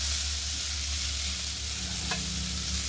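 Fried potatoes tossed with chopped coriander in a wok give a steady close sizzle, with light scraping stir strokes and one brief clink near the end.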